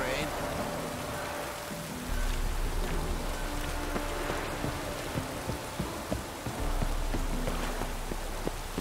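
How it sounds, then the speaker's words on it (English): Steady rain falls in The Witcher 3, a dense continuous patter with a low rumbling bed underneath and a few faint tonal game sounds layered on top. "No use doing any work in this rain."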